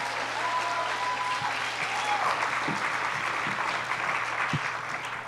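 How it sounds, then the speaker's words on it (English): Warm, steady applause from an audience at an event of immigrant speakers, a dense continuous clapping that holds at an even level, with a low steady hum and a few scattered thumps beneath. "give Jennifer a warm round of applause as she steps into one of her goals"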